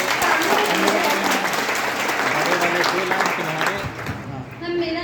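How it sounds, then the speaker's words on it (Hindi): Live audience applause in a hall during a question-and-answer session, steady dense clapping from a large crowd that holds for several seconds before thinning slightly near the end. "अपनी तालियों से मुझे हौसला दीजिए"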